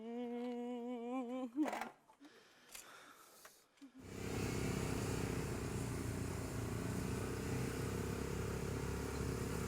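Motorcycle engine that starts up after a few seconds of quieter clatter and a brief tonal hum, then settles into a loud, steady idle running continuously to the end.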